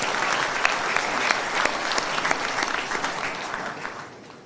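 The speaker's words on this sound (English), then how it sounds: "Give yourselves a round of applause" Volunteers at a Reform UK political rally give a hearty round of applause, a dense and lively clapping crowd with scattered sharper claps standing out, gradually tapering off toward the end.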